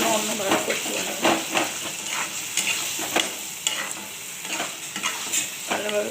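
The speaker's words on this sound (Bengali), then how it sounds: "এবার আদা জিরে বাটা একটু দিয়ে দিচ্ছি, লঙ্কা আদা জিরে বাটা।" A ginger, cumin and green chili paste fries in fish oil, giving a loud, dense sizzle close by, broken by regular scraping strokes of a spatula stirring in the pan.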